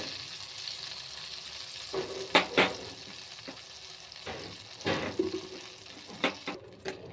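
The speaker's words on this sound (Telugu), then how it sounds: "బెల్లం వేసి మంచిగా కలుపుకోవాలి" Jaggery stirred into a tamarind-based moong dal curry in a pan, with soft sizzling and frying under intermittent scraping stir strokes, close and moderate in level, no talk.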